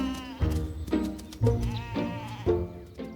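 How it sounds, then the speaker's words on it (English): Sheep bleat as tups are let in with ewes at tupping season on a Kielder farm: several close, wavering bleats in quick succession, some overlapping, with no other sounds between them. "For Farmer Bob's tups, their big day has come. It's tupping season, and they're ready to meet the ewes."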